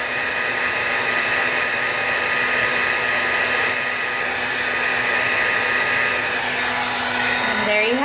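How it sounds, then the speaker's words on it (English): Heat gun blowing steadily over embossing powder on ribbon, a loud, constant whirring hiss held close the whole time, with a brief dip and pitch shift right at the end. "the point to setting it with the heat gun is it sets the powder so it won't bleed anymore"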